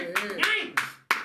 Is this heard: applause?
yes